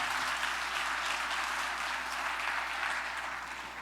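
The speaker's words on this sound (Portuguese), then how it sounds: "Mais uma vez, aplauda Jesus" Church congregation applauding, a dense, steady wash of clapping from many hands that holds at full strength and tapers slightly at the end, with no talk over it.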